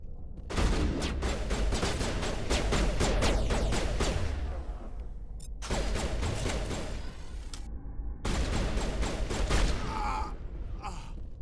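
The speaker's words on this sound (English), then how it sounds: "They're just shooting." Gunfire in the video game Mass Effect: long sustained automatic bursts in three loud volleys separated by brief pauses, with grunts and breaths from characters mixed in.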